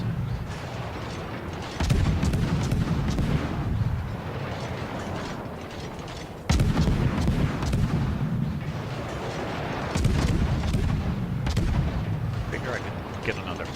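Naval battle video game with ship guns firing in heavy booming salvos, three big blasts spaced several seconds apart over a continuous mechanical rumble and ratcheting, with a player talking throughout.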